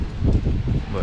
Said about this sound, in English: It is cold and windy, so you guys probably won't be able to hear this audio good.